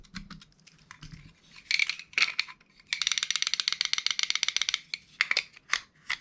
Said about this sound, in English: Now that we're using both halves of the shell, we're going to want to screw it down